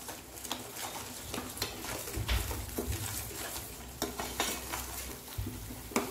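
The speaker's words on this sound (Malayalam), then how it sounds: "എണ്ണ തെളിയുന്ന വരെ എണ്ണ ഇളക്കാം." A spoon stirs tomato sauce with black pepper powder and salt in hot oil for a homemade pizza topping, giving a steady close sizzle with soft scraping strokes against the pan and occasional light clinks.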